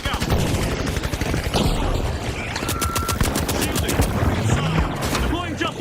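Rapid bursts of automatic gunfire from a deployed turret in a shooter video game, loud and continuous, a dense rattling stream with other game effects layered over it.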